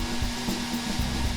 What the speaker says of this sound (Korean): 드라이기를 켜서 뜨거운 바람을 스티로폼 박스에 넣기 시작하는데요